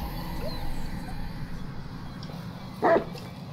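A dog in the Blair Witch game gives a few soft whimpers and one short, sharp bark near the end, heard over a low, steady ambient rumble.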